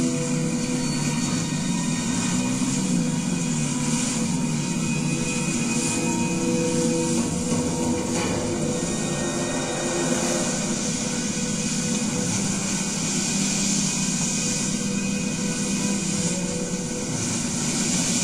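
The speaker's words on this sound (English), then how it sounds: "Start the engine." Aircraft engine starting and running in Battlefield Bad Company 2, a steady loud broadband roar with a droning hum that holds for the whole span without breaks.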